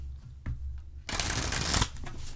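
Tarot cards shuffled for a three-card draw: a few soft riffs, then a dense, close crackling burst of cards riffling together for about a second before it settles back into quieter handling.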